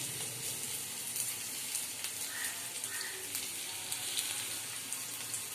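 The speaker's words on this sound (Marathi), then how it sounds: "थोडीशी मिरची फ्राय झाली की त्यानंतर आपण कांदा पण टाकूया" Faint, steady sizzle of green chilies frying in oil for a Marathi tempering, a soft continuous hiss with light crackles and no talk.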